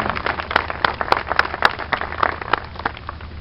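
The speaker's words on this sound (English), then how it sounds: "Can we give all of them a round of applause?" A modest round of applause for city council members at a community transit event, scattered hand claps forming a light, uneven patter with a few sharper claps standing out, no voices over it.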